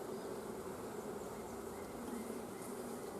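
Honey bees fill a beehive with a dense, steady, close buzzing hum that holds unbroken throughout, with no voices.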